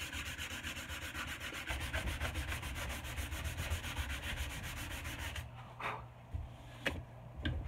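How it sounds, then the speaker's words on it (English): Sandpaper rubbing back and forth along a wooden axe handle below the head during hafting, a steady dense scraping that runs continuously, then breaks into a few separate strokes near the end. "I'll also take some sandpaper and sand it right there"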